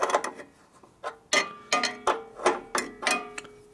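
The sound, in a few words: tightening fittings on 1965 Harley panhead motor with ratchet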